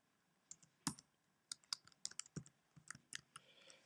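Typing on a computer keyboard while entering text in a word processor, heard as scattered, soft key clicks in quick irregular clusters, close and quiet with no talking.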